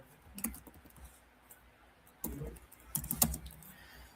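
Scattered bursts of keystrokes on a computer keyboard while a search is entered on a PC, fairly faint, with quiet pauses between the short runs of clicks.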